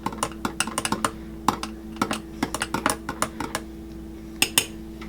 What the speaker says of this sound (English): You're going to give that a good stir to dissolve everything up